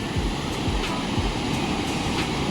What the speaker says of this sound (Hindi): पानी की आवाज़ चेक कीजिए।